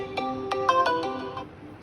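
A Realme C61 phone plays a short melodic ringtone, a quick run of bright chiming notes lasting under two seconds, fairly quiet against a faint background.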